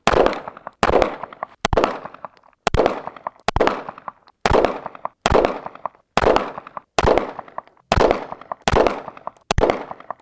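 A rapid string of handgun shots, about a dozen sharp reports spaced under a second apart with ringing decay, loud and close, with no talking.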